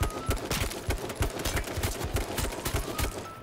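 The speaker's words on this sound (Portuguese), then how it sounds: "Ai, tô tomando tiro." Gunfire in the battle royale video game H1Z1, rapid bursts of shots cracking in an irregular automatic fusillade, dense and fairly loud throughout with no voice over it.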